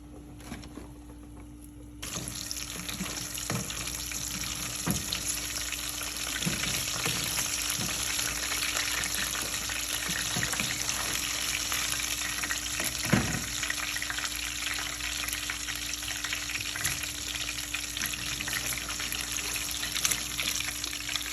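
Chicken nuggets frying in a pan of hot oil, a steady close sizzle running throughout with occasional pops and faint clinks of utensils, no talking.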